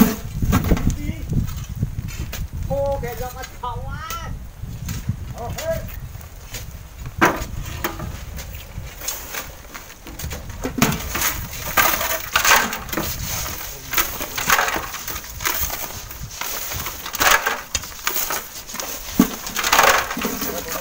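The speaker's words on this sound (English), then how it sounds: "The worker will pry the stone, and indeed, the red sand comes down following him." Stone being pried loose by a worker, with red sand sliding and falling down in a rough, crumbly rush of scraping and gritty crunches, broken by sharp knocks, all near and fairly loud with some muffled voices mixed in.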